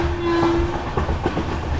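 An Ernakulam–Okha Express train pulling out of a station, heard from a passenger train on the same line: a steady, close rail rumble with a sustained horn-like tone and some knocking clatter.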